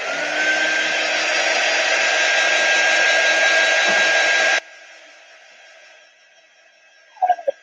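A hair dryer runs steadily and loudly for about four and a half seconds to dry a freshly made craft piece that bled slightly, then cuts off, leaving a faint hiss and a couple of brief knocks.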